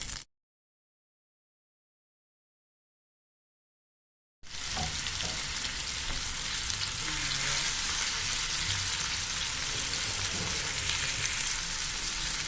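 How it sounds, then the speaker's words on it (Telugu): Hot oil sizzling steadily in a tawa pan on a stove for chicken fry, a loud, constant hiss that starts abruptly after a few seconds of silence and continues unbroken. "ఇప్పుడు స్టవ్ ఆన్ చేసి స్టవ్ పైన తవా పాన్ పెట్టాను. అది వేడయిన తర్వాత కొద్దిగా ఆయిల్ వేస్తున్నాను."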